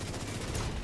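Gunfire in The Division 2 on hard difficulty, a short burst of rapid shots in a dense, loud barrage with no speech.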